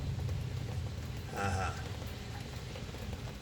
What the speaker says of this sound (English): And now it's raining out there.